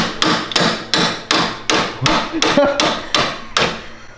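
A hammer strikes a bolt on a Can-Am Maverick X3 side-by-side during front suspension and sway bar work, with about eleven loud, sharp metallic blows at a steady, even pace, each ringing briefly before the next.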